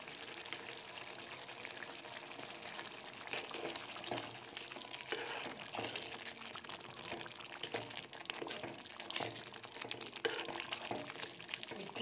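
Vendakkai puli kuzhambu, an okra and tamarind curry, is stirred in a pan with a faint, continuous simmering sizzle and soft scraping strokes throughout.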